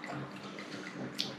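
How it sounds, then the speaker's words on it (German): Water is poured into a glass at home, a faint, soft trickle with light drips over quiet room noise. "Ali, gieß dir gleich Wasser ein."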